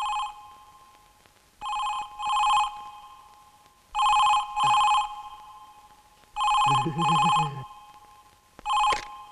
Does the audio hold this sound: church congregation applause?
no